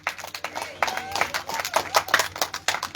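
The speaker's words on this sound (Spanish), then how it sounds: "¿Cuántos dan palmas a Jesucristo?" A church congregation claps for Jesus Christ in rhythmic bursts, a quick irregular run of hand claps with voices mixed in underneath.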